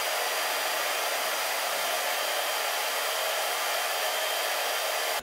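A hair dryer blows steadily and loudly from start to finish, a continuous broadband whoosh with no pauses and no talking over it.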